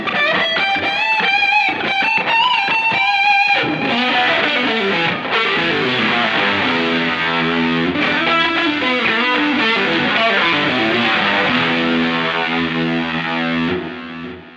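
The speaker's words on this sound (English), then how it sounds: "everything about that sound is generated by the Axe FX" Loud, continuous electric guitar lead with distortion and effects played through an Axe FX, sustained bent notes over backing, no talk.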